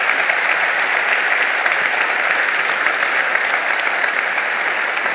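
Steady, dense applause from a large audience at a political talk, loud and even across the whole stretch with no voices over it.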